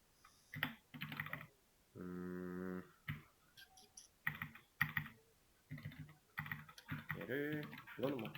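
Code is typed on a computer keyboard in short bursts of soft clicks, close and quiet, broken up by someone talking.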